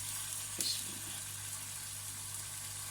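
Green chilies and garlic-ginger paste hit a hot pan for spicy keema paratha, raising a steady, hissing sizzle with a brief louder burst near the start over a low background hum.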